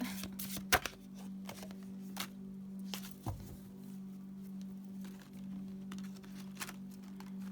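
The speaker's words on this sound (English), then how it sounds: "so awkward to shuffle big cards" Large tarot cards are shuffled by hand, giving soft, irregular riffles and taps with a few sharper card snaps over a quiet, steady hum.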